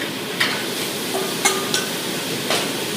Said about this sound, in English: give it a good stir around, get a nice bit of caramelisation on the outside